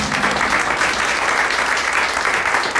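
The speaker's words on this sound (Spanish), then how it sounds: "Le damos un aplauso a nuestro Dios." A church congregation applauds together in a dense, steady burst of clapping that fills the room at moderate loudness, with no voices standing out.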